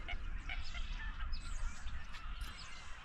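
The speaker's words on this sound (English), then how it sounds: "Hundreds and hundreds and hundreds of geese just flew above us with this beautiful sky and these beautiful clouds." A large flock of migrating geese honks overhead beneath an open sky in California, with many overlapping calls forming a steady, busy chorus over low wind or rumble.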